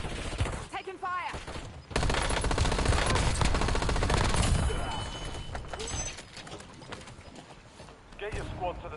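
Rapid bursts of gunfire erupt in a battle royale video game, loud clattering automatic fire dominating the middle stretch, mixed with game sounds and voice callouts before and after.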